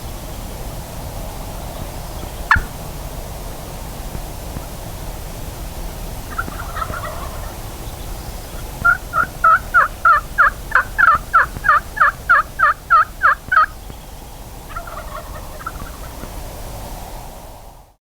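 Wild turkey toms gobble on a spring hunt in Eastern Colorado, first as a few distant calls, then as a rapid run of about a dozen clear rolling gobbles, over steady wind noise outdoors.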